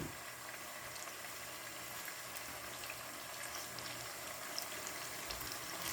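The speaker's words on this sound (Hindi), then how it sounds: "पहले हम चिकन को फ्राई ही करेंगे, कोई मसाला नहीं जाएगा अभी इसमें।" Chicken frying in a karahi over high heat, a steady loud sizzle and bubbling hiss running unbroken with no talk.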